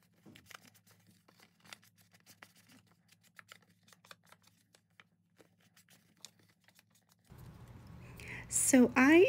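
Scissors snip out paper buildings for Halloween craft tags, many small close crisp cuts and paper rustles scattered through quiet room tone, ending under a voice talking.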